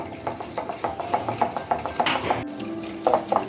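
A spoon stirs ghee and icing sugar together in a bowl, with a run of quick rhythmic clinks and scrapes against the side, close and clear.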